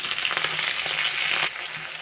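Cumin, mustard seeds, green chillies, onions and fenugreek frying in hot oil, a close, loud, steady sizzle with crackling bursts that drops slightly toward the end.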